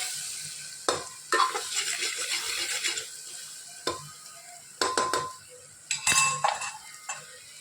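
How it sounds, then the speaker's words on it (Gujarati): Asafoetida, turmeric, red chili and garam masala are stirred in a hot pan: repeated scraping strokes and metallic knocks of a spoon against the pan come over a low sizzle, with brief pauses between them. "હિંગ હળદર લાલ મરચું ગરમ મસાલો સરસ બધું મિક્સ કરી લઈએ"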